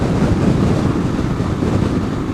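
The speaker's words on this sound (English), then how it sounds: "Gee, okay, it's pretty windy now." Strong, gusting wind buffets the microphone of a bike rider, a loud continuous low roar with rumbling that never lets up, and no voices.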